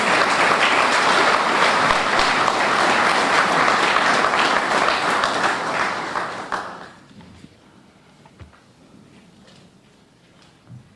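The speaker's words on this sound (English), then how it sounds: "Please give these folks a round of applause." A veterans' memorial building audience at a grand re-opening ceremony applauds its officers, loud dense clapping that holds steady for several seconds, then fades quickly to near silence with a few scattered claps.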